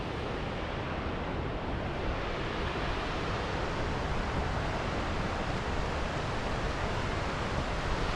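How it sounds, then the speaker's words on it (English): A waterfall beside a creek on a hike gives a constant, dense rushing roar that fills the whole stretch evenly, with no pauses and no voices. "quite a waterfall."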